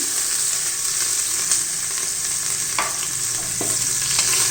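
Sliced onions frying in hot oil with bay leaf and cardamom for tomato rice, a loud steady sizzle with a few scraping stirs and light clicks of the spoon, no talking.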